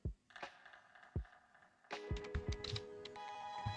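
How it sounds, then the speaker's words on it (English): A computer keyboard is typed on, with a few sparse clicks at first and then a quicker run of close, crisp keystrokes, faint and alone with no talk. "So I'm just going to type in something here."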